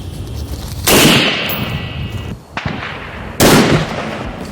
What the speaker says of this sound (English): we'll have at least 3, 4, 5, 6 clean shots, no problem, and then we'll check the plate